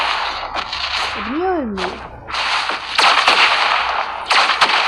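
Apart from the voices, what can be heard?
gunshots in the video game PUBG Mobile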